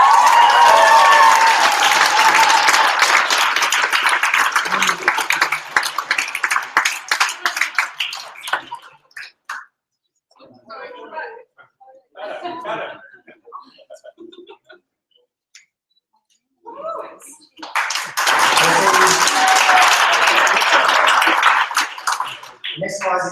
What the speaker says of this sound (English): Big round of applause for Francis Saturn.